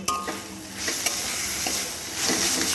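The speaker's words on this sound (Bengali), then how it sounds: "এবার ঢাকাটা খুলে ভালো করে নাড়াচাড়া করে মিশিয়ে নেব" A mustard paste and shrimp mixture gets stirred in a pan, a spoon scraping and clinking over a continuous bright sizzle, close and with no talk.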